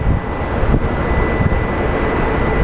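A Frontier Airlines jet at Phoenix Sky Harbor airport sends a steady, broad roar with a low rumble, loud and continuous throughout, with no voices.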